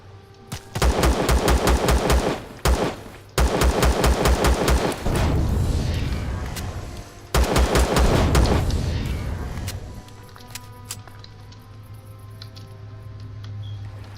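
Loud rapid automatic gunfire in a video game involving a hover vessel, fired in three long sustained bursts separated by short gaps, then fading to a low steady hum.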